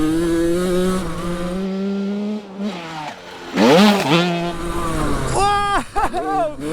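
A Suzuki RM85 motocross bike rides laps with a high, buzzing two-stroke engine that rises and falls in pitch as the throttle opens and closes, loud and close, with one louder burst in the middle.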